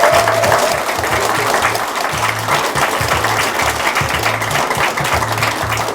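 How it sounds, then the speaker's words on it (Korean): An audience at a Korean political event applauds steadily for the speaker's wife, dense clapping that is loud and sustained throughout, with a brief voice early on. "우리 이승아 제 아내 큰 박수로 격려해 주시기 바랍니다."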